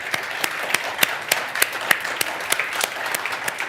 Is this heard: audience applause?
yes